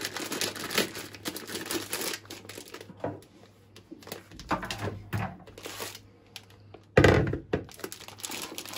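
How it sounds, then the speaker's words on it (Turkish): A plastic bag of popping-corn kernels is torn open nearby, a run of crinkling and crackling rustles with a few sharp thunks, ending in one loud crisp rip. "Öncesinde paketimizi şöyle açalım."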